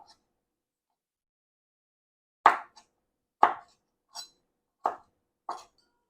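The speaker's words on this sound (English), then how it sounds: "we're just going to cut our potatoes" A knife chopping potatoes into bite-sized pieces on a board, five crisp separate chops spaced roughly a second apart in near silence, close and clear.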